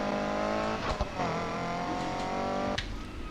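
Car engine in the racing video game Need for Speed Heat, played with a steering wheel, a loud steady droning hum with shifting pitch, a brief tire squeal and a sudden drop as the revs cut near the end.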